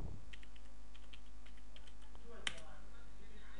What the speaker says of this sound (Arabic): انا اكتب برضو تعليم كمبيوتر